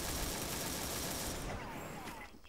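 A burst of rapid automatic gunfire in a multiplayer shooting game, loud and dense for over a second before trailing off into quieter game ambience.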